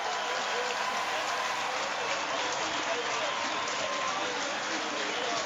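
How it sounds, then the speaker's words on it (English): A dense crowd roars and applauds in the Roubaix velodrome as Fabian Cancellara arrives at Paris-Roubaix 2010, a continuous loud wash of cheering and clapping that fills the space. "And hear the crowd."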